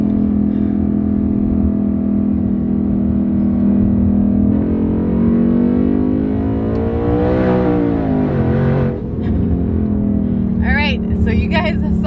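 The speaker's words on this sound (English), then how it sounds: "I'm going to do a quick pull now. So it's going to be in second gear, and it's going to be a 40 roll." Twin-turbo Mustang GT accelerating hard in second gear from a roll, a loud engine rising steadily in pitch inside the cabin, then easing off, with a voice speaking briefly near the end.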